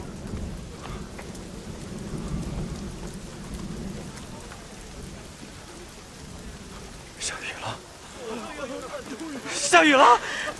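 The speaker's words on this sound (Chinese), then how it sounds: "下雨了！" Heavy rain pours in a dense, steady hiss over a drought-stricken harbour town, broken by low thunder rumbles, with excited voices shouting near the end.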